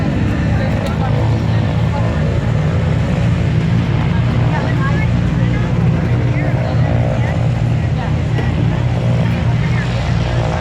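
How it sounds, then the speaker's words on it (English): A B-17 bomber at the Chilliwack airshow idles with its inboard engines throttled back, a loud, unbroken, close piston-engine drone that holds steady throughout. "as they idle back the inboard engines"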